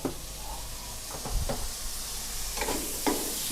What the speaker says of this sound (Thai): ขั้นตอนนี้ผัดเลยครับ